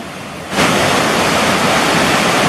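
A muddy river swollen after rain rushes past a riverside plot, a loud, dense broadband roar that swells up abruptly after a half second and then holds steady with no voices.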